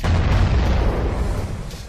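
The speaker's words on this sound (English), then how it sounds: "Nuclear explosion." A single deep explosion boom with a loud low rumble that rolls on and slowly fades across two seconds, no voices.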